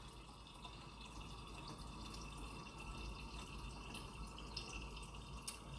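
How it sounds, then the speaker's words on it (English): Purified water poured into a container at a sink while making kombucha, a soft continuous trickle with light splashes, quiet and close. "I'll fill this up with some purified water"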